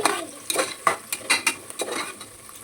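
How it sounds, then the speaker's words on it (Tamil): Onions frying for chicken biryani are stirred in a pan. A spoon gives a quick run of sharp scrapes and clinks over a faint sizzle, heard close and fairly quiet. "வெங்காயம் நல்லா பொன்னிறமாக வதங்கிடுச்சு"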